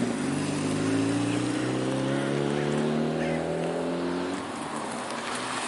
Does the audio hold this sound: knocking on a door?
no